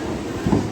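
An MMTS local train runs through Hyderabad, pulling out of Malakpet station, with a steady rumbling, hissing rail noise close by and a brief swell partway through.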